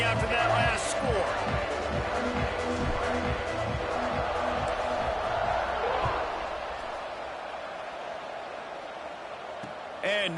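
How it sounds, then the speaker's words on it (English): A football stadium crowd buzzes after a score, a broad steady roar of many voices with a rhythmic thumping pulse underneath that eases off in the second half. "this crowd is buzzing after that last score"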